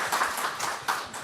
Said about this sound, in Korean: 여러분 다시 한번 격려의 박수 부탁드립니다